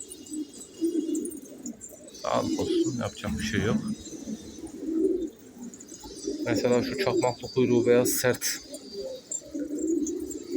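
A flock of about seventy male pigeons, including Turkish garip tumblers, cooing in soft repeated low calls at moderate distance, while someone talks at length over them.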